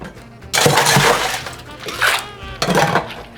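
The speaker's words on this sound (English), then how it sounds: "Let's add ice." Ice cubes tumble into a cocktail shaker tin for a gin gimlet, landing in three loud clattering bursts of rattling, clinking ice separated by short pauses.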